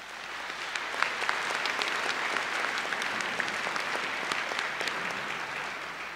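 Steady applause from a high school pops concert audience, many hands clapping evenly and continuously, fairly close and moderately loud, with no talking over it.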